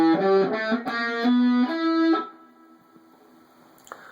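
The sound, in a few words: distorted electric guitar solo phrase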